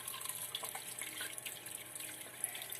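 Food being rinsed a second time in running water, with a steady broadband splash and trickle like a tap pouring into a basin, close and continuous throughout.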